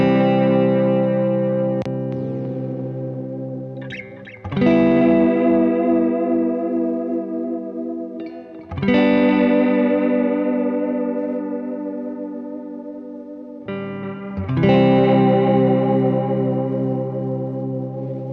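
A JHS Oil Can Delay pedal in plus mode adds a wobbly, warbly modulated echo to sustained guitar chords. Three or four loud, ringing strums each swell and slowly decay with a pitch-shifting shimmer, with no talking.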